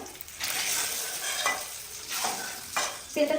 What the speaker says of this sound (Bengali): আলুটা ভেজে নিই